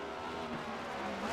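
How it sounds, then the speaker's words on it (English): Race car at Circuit of the Americas during a Premier Series race, engine revving hard and changing pitch as it works down through the gears into a corner, loud and continuous. "You hear him there changing those gears, working that car down to the corner"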